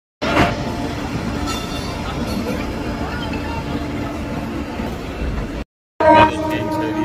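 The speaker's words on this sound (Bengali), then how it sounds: "আমাদের ট্রেন ছেড়ে দিয়েছে, আমরা যাচ্ছি এবার রামপুরহাটের দিকে" A passenger train pulling out of Howrah station bound for Rampurhat, a continuous rumbling roll of wheels and carriages heard from on board, broken by a brief gap and then louder clatter near the end.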